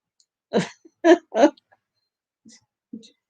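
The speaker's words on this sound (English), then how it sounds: "I don't know where I got this damn cough." Three short, harsh coughs in quick succession, close by, followed by a couple of faint breathy sounds.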